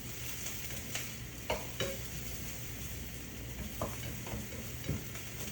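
Red snapper fries in a pan while a spatula stirs and scrapes it, a steady sizzle broken by several sharp scraping clicks, close up and with no speech.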